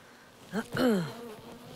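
Honeybees buzz at an open hive, a near insect whine swelling briefly and then fading against quiet outdoor background.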